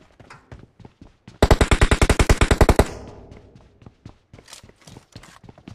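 Automatic gunfire in the battle royale game PUBG: a rapid burst of about a dozen sharp, loud shots over roughly a second and a half, set among scattered softer footsteps and distant shots.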